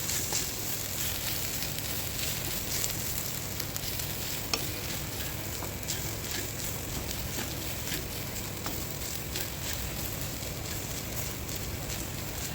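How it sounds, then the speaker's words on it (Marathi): Grated fresh coconut stir-fried in a pan over medium heat for laddoos, giving a steady, close sizzle with faint scraping stirs and no talk. "आपण आता हे ओले खोबरे ह्यामध्ये परतून घेणार आहोत।"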